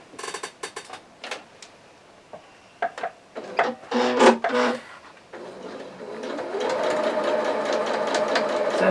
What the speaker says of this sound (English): So with a straight stitch I'm going to sew in that crease line all the way around.